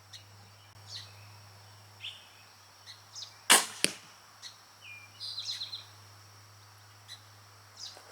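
A Jennings Devastator crossbow fires a roughly 530-grain arrow at a target 25 yards away: one sharp, loud snap of release followed almost instantly by a thud of impact, with faint birds and insects chirping outdoors around it.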